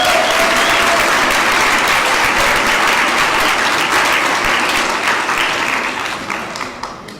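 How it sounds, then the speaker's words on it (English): A large audience at a graduation ceremony gives a long, dense round of applause, loud and steady for several seconds before thinning slightly toward the end. "let's give one large round of applause, and it's well deserved to all these remarkable graduates"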